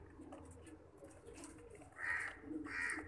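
Pigeons cooing in a breeder's loft, soft low coos at first, then two louder, closer cooing calls over faint background noise.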